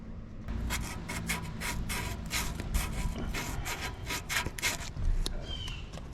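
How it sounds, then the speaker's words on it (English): Sandpaper rubbed by hand on a surface in a garage workshop, a run of close, scratchy back-and-forth strokes in a steady rhythm, with low background hum and no talking. "Let me get a little bit more sandpaper."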